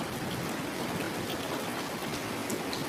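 Steady rainfall makes a dense, even hiss with scattered drops, continuous and fairly loud with no voices.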